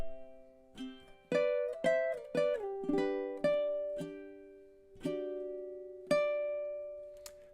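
Fingerstyle ukulele plays measures five to eight of Shenandoah, a slow melody of plucked notes over held chord tones, clear and close with no talking.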